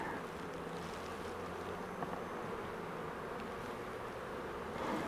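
Honey bees buzz in a steady, dense drone around an open nuc hive frame, a close continuous hum with no voices over it.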